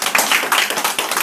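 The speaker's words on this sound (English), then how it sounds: "Everyone give a big clap for that." A meeting audience claps loudly and close by, a brisk series of distinct hand claps in a quick uneven rhythm, with no talk over it.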